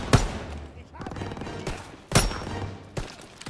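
Two heavy gunshots from a World War II firearm in Call of Duty: WWII, set in the Hürtgen Forest, each a sharp loud crack about two seconds apart with a short ringing tail, amid quieter game ambience.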